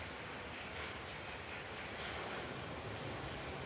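Heavy evening rain falling steadily, a dense, even hiss with no break across the whole stretch and no voices.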